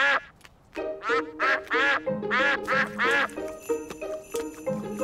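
A cartoon duck quacks loudly and repeatedly in bouncy, cheerful bursts close up, with light twinkly music underneath.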